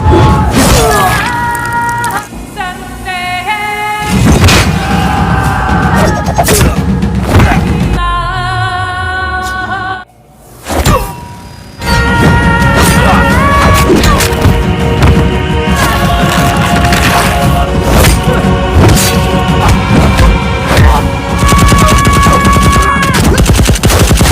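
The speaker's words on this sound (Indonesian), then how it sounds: "Baku tembak kembali terjadi di lorong tempat menuju lokasi Raza." Movie gunfight in a corridor, with loud, dense bursts of automatic gunfire, single shots, shattering glass and booms, dropping briefly to near silence partway through before the shooting resumes at full intensity.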